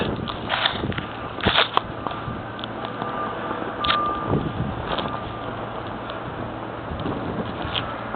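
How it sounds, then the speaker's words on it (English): Blizzard wind roars steadily throughout with buffeting microphone gusts, a constant loud outdoor rush that swells and eases over several seconds, with no voices present. "More wind."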